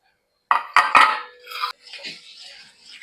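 A metal idli stand is greased with oil in a kitchen, giving a few close, sharp metallic clinks followed by softer rubbing and scraping across the metal.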